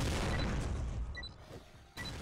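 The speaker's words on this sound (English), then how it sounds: "Now I guess I'm gonna just toss some nades in there" Grenades tossed in a first-person shooter go off as deep, rumbling booms, with a heavy blast at the start and another sharp burst near the end.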